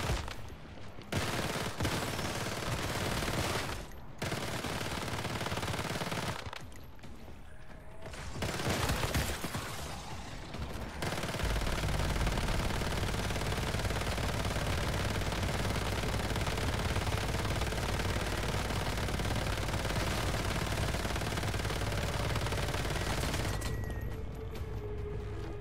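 Gunfire in the Once Human video game, rapid mechanical bursts with short pauses between volleys, then a long steady stretch of continuous shooting, fairly quiet overall and with no talking.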